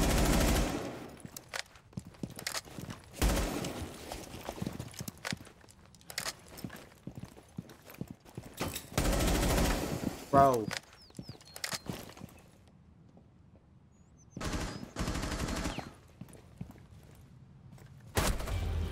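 Rainbow Six Siege gunfire comes in loud bursts of rapid automatic shots separated by quieter gaps with footsteps, and a player speaks briefly.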